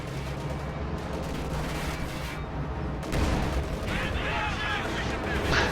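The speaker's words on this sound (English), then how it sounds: "Friendly mine goes off thanks to that Panzer IV shot" A mine explodes after a Panzer IV shot in a World War II strategy game, one deep blast within a constant rumble of artillery and gunfire. A voice talks over the battle noise.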